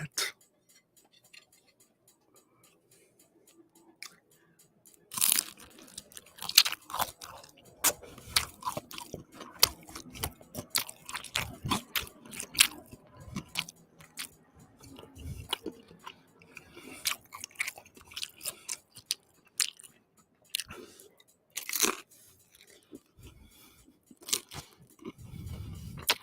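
Chewing and crunching food during a mukbang, close to the mic, with irregular crisp bites and chomps that begin after a quiet opening and continue steadily throughout.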